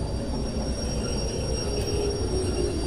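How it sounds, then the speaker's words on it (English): A train in the Derail Valley simulator game rolls and grinds steadily as its brakes are applied near a service yard, a continuous loud rumble with a thin high squeal running on top. "So if we lob the train brake on now"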